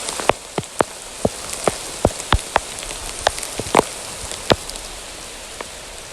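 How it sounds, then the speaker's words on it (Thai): Rain falls in a forest, with scattered close drops tapping loudly on a surface over a steady hiss of rainfall. "ฝนมาแล้ว"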